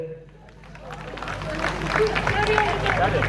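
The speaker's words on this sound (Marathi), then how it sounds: "टाळ्या वाजू" Applause and crowd noise swell from an audience cheering a dance at a lively outdoor home-show event, building from quiet to a steady loud clatter over a dense background.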